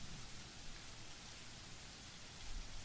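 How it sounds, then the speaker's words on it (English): Steady rain falls outdoors as a dense, even hiss of countless drops, constant and moderately loud throughout with a slight swell near the end, no one speaking. "It's raining."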